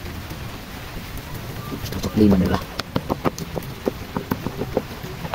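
Rain falls steadily on a surface beside rice paddy fields, a soft continuous patter with sharper drops, while someone talks over it.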